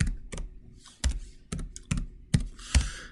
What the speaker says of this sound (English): I'm now going to type tab, and then I can type my search